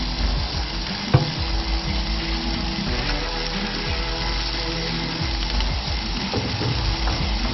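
Pink snapper fillets sizzle and fry in hot oil, a steady close crackle with a few sharp pops and some faint pan clatter, no talking.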